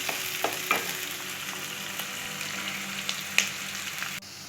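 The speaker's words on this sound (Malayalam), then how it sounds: "അതൊന്ന് വഴന്ന് വരുന്നവരെ നമുക്കൊന്ന് ഇളക്കാം" Onions and green chillies sauté in hot oil in a pan, with a steady sizzle and a few scraping stirs of a spoon, close and fairly soft throughout.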